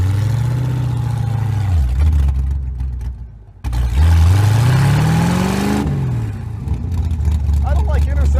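A go-kart fitted with a clutch and windshield runs on a highway, its small engine revving and droning loudly. Pitch sweeps rise and fall as it accelerates, with a brief dip between pulls.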